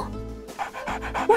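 A cartoon puppy barks and yips in short, close bursts, with panting sounds between them.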